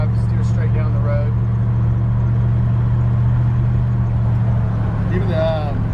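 Engine of a 1936 Chevrolet 5-window coupe drones steadily at low pitch from inside the car as it drives down the road, with someone talking over it in places.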